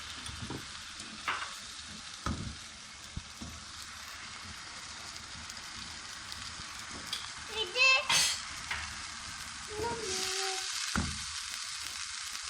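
Halwa cooks in a pan while being stirred, a faint steady sizzle broken by intermittent scrapes and clinks of the spoon, with some brief background sounds.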